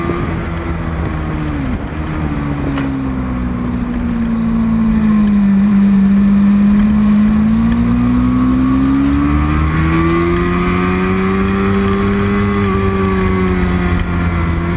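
Superbike engines scream through a race at Grattan, a loud continuous howl that rises and falls in pitch as the bikes accelerate and shift, with several machines layered close together.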